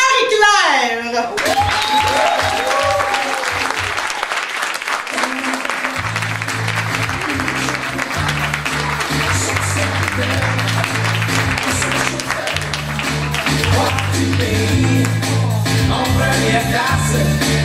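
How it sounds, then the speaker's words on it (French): Applause from a gathered audience welcoming a female guest on stage at an evening show, a dense continuous patter of clapping running alongside music with a steady pulsing beat and a voice at the start. "je vous demande d'accueillir dans l'amour et dans un tonnerre d'applaudissements, Madame Marie-Claire!"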